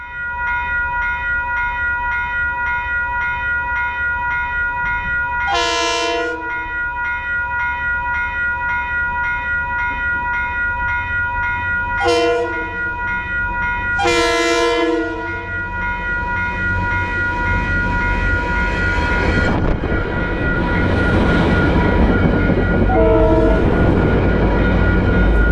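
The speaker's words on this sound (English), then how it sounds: "Running hot on the heels of train 6849 was Metro North Deadhead train 5149 with a filthy, disgusting, dirty cab car leading" A Metro North deadhead train, cab car leading with a CT Rail locomotive on the rear, passes close by: three loud blasts of a multi-tone horn, then a swelling rumble of wheels that grows louder toward the end.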